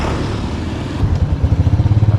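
A motorized tricycle engine sputters near and loud, shifting after a second into a rhythmic, pulsing idle with rapid regular thumps.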